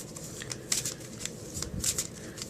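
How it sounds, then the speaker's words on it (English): Tarot cards are quickly shuffled by hand, producing a few soft riffling bursts and light papery flicks at close range, with no other sound around them. "I'm just going to give them a quick shuffle, just like this."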